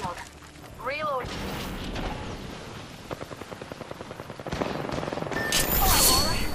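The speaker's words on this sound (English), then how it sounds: "Bad boys are shooting at me." Gunfire in a video game battle royale match, bursts of rapid shots with dense crackling and a rattling automatic stretch in the middle, while a player talks over the fighting.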